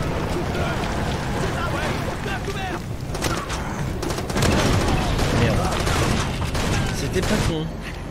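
Scattered gunfire in the shooter game Far Cry 2 near a dock, with overlapping shots and bursts that grow denser midway through a noisy combat scene.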